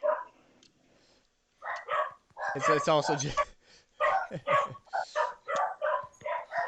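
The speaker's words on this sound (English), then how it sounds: "It's just a dog barking." A dog barks in short bursts mixed with people talking nearby, the barks loud and close, sounding a bit like a rooster's crow.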